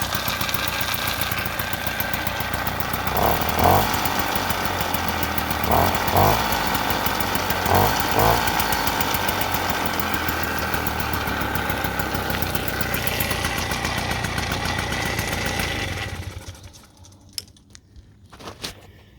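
A Motobecane moped with a newly installed carburetor buzzes at a loud, steady idle with a few brief revs, then cuts out, leaving near silence with a couple of small clicks.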